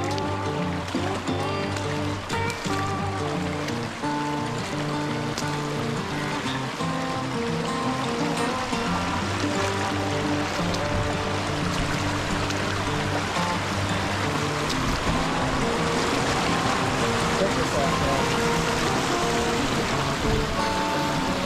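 A small creek running over slate rock in the woods, a steady rushing trickle of water heard close and continuous, layered with faint tonal background sounds.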